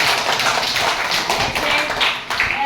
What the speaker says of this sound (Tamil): எல்லாம் கை தட்டுங்க.